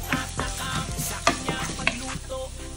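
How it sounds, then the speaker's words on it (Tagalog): Garlic, ginger and onion sizzle and sputter in a hot pan while being stirred, a steady close frying hiss with a few sharp scraping and clacking spoon strikes, no voices. "Magigisa muna ako ng bawang at saka luya saka sibuyas."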